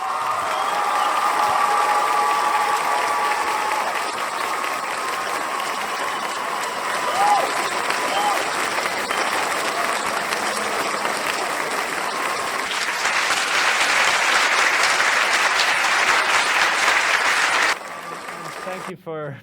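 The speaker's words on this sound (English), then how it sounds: "standing round of applause for the amazing Graham Hancock" Standing ovation for a speaker at a live talk in Denver: a large audience claps steadily and densely for about eighteen seconds, swelling briefly near the end before cutting off.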